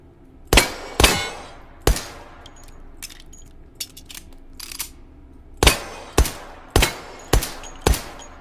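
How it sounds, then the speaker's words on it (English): Suppressed gunshots in the VR shooting game H3VR, sharp metallic clangs of rounds striking steel targets in separated bursts, a few singles and quick pairs with pauses between, no voices. "Turns out when you put a suppressor on that completely blocks your iron sights, not so good for target shooting."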